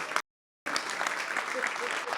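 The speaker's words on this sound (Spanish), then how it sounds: "Muy bien, un aplauso" Brief burst of audience applause at a Masonic recognition event honoring ITBA champions, steady and moderately loud after a short dropout at the start.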